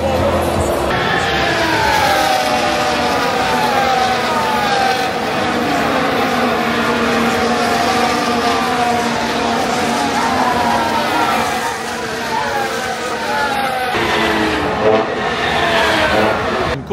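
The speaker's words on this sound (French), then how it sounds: "Le DBX safety car qui passe." An Aston Martin DBX safety car driving past at a racing circuit, its engine note rising and sweeping through a long continuous pass, loud and close, with the roar sustained for many seconds before fading slightly and flaring again.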